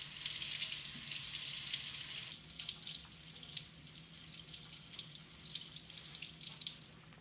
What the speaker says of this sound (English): she washes the sample thoroughly with water